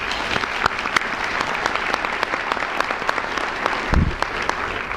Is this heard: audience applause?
yes